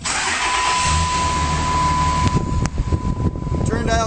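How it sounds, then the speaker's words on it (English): A 2006 Dodge Ram 2500 pickup with a 5.9L diesel engine cranks and turns over, settling into a rough, rumbling idle, with a steady electronic tone and background noise early on. "we'll start it up for you"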